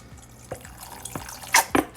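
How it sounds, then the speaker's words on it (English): Garden herb vinaigrette dressing is poured into a bowl, heard as a few scattered wet drips and splashes that build toward louder close splatters near the end. "This one is garden herb vinaigrette. I'm gonna pour it all in here."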